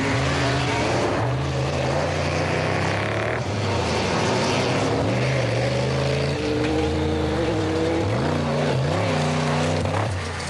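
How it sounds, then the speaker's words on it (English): A Woolridge Skolthammer V8-powered Ford off-road race car roars loudly and continuously at a 2003 off-road race in South Africa, its engine pitch climbing and dipping through repeated rev sweeps as it powers over terrain. "The Woolridge Skolthammer V8-powered Ford sounded strong."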